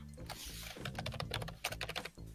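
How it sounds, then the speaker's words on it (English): Computer keyboard typing in the background, a quick irregular patter of soft clicks at low level, mixed with faint other sounds. "just typing in the background"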